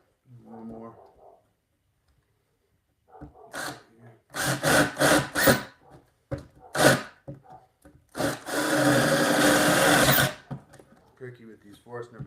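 Forstner bit bored into wood for bunk-bed corner braces in a home workshop, heard as several short loud bursts of cutting followed by one longer sustained grinding pass, with a person speaking briefly before and after.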